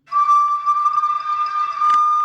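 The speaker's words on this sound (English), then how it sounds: "They heard his cheery whistle" A single sustained, steady steam locomotive whistle rings out loudly for about two seconds, bright and clear with a faint wavering.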